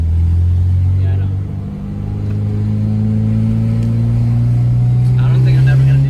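Low, steady exhaust rumble from a K20-swapped Honda Civic EK sedan with a leaking exhaust, droning continuously from inside the car on a drive, the engine note rising slightly toward the end.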